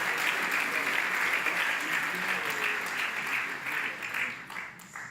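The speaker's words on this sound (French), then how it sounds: "continuez les applaudissements" Sustained applause from an audience at a political party seminar in France, a dense, even wash of clapping that carries on steadily for several seconds before thinning out toward the end.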